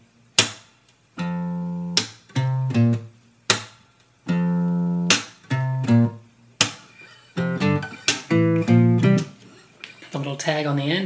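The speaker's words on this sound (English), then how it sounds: "I'm just hitting the 6th string with my thumb and getting that snare-like sound." Acoustic guitar played fingerstyle, with the thumb slapping the sixth string for a snare-like percussive hit; close, clear plucked notes and chords in a steady rhythmic pattern with sharp slaps between them, no talking.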